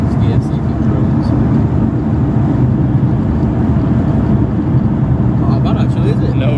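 Nissan 350Z fitted with a Japspeed exhaust cruising in sixth gear at about 70 mph on a motorway, heard from inside as a steady, loud broadband rumble of tyre and road noise with a low, drone-free exhaust hum underneath.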